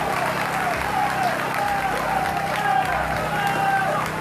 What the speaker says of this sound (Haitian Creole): On applaudit encore, mesdames, messieurs.